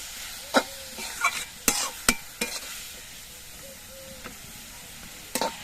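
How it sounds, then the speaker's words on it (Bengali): Radish stalks sizzle quietly in a pan while a utensil scrapes and stirs them in a few sharp, irregular strokes. "মূলো ডাঁটাগুলো আমি বেশ কিছুক্ষণ ভেজে নিয়েছি"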